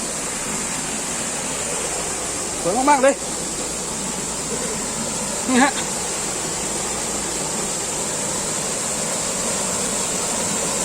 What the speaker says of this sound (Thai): น้ำตกออกจากร่อง หิน